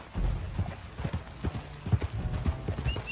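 Horse hooves clip-clop in a steady walking rhythm in the video game Red Dead Redemption 2, close and clear, with a brief whinny-like touch and faint game ambience behind.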